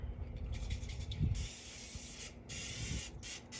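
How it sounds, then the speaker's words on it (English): Butter-flavored cooking spray hisses out of an aerosol can onto a new mini grill outdoors, two sustained bursts with a short gap between them, close and steady over a low wind rumble. "I just spray all up in here in these corners where I can't get to"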